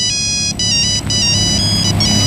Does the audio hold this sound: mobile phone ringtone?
yes